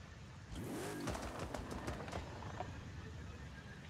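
V10 car engine in the video game Forza, revving up with a rising whine and holding a steady high drone, fairly loud and alone.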